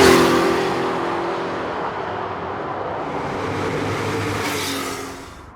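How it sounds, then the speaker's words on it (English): A first-year 3-litre turbo car pulls hard under strong acceleration, its engine loudest at the start, then settling into a steady, powerful roar that tapers off at the end. "the car certainly pulls really strong"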